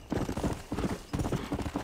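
A horse's hooves clip-clop steadily in the Red Dead Redemption video game, a brisk, even rhythm of close, fairly loud hoofbeats with no talking over it.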